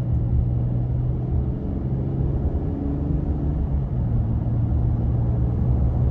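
Inside a 2022 Nissan Frontier S pickup cruising at about 55 mph, a steady low engine and road rumble drones evenly throughout, with no talk over it.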